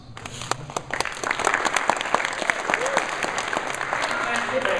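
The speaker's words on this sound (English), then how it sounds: "please hold your applause until you feel like it's necessary" An audience at a convention stage reading claps, with scattered individual claps at first that swell into fuller, sustained applause from a crowd in a hall.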